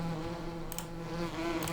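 Bees buzz around beehives in Farming Simulator 2017, a steady droning hum from several insects, moderately loud and continuous, with no talk.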